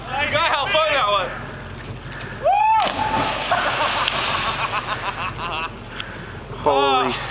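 A person plunges into water after a cliff jump at Steamboat, with a broadband splash and slosh among excited shouting and cheering voices, people talking and whooping throughout.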